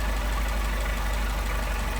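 An engine fitted with Solex 44PHH carburetors idles steadily after tuning, a close, loud, continuous broadband rumble with a faint rhythmic pulse and no voices.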